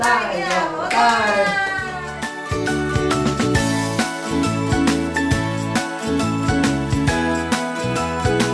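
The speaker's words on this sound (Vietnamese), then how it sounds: "Vỗ tay." Hand claps ring out at a quick, regular beat during a children's body-parts game, with bright tinkling music and a voice sounding alongside.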